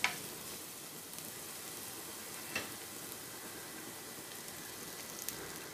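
Crushed garlic sautéing in sesame oil, a faint, even hiss of frying with a couple of soft clicks, quiet and continuous with no voices.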